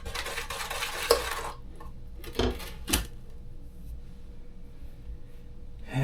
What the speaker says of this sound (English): So, go on ahead and stir this.